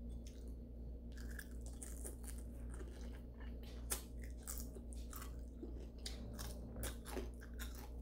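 Crunchy fried boneless milkfish (bangus) is bitten and chewed up close, with repeated sharp crunches and soft wet chewing in an irregular rhythm, eaten with rice.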